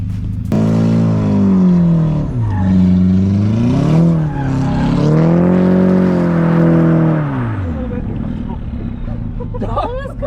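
An Audi A4 drift car is driven, its engine droning steadily with pitch rising and falling as the revs swing, loud and close throughout.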